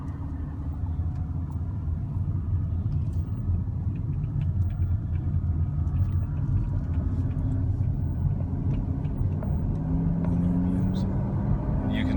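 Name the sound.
2013 Camaro 2SS accelerating on an on-ramp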